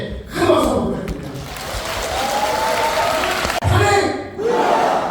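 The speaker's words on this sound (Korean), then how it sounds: "이상현 의원님께 큰 박수 부탁드립니다" Applause and cheering swell from a political rally crowd in a party hall, loud and sustained for several seconds, briefly cut, then rising again with shouts and voices mixed in.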